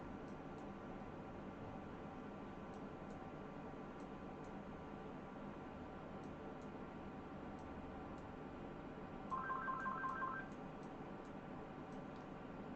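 A telephone gives a short electronic trilling ring of rapid pulses lasting about a second, moderately loud against a steady background hum, with no talking.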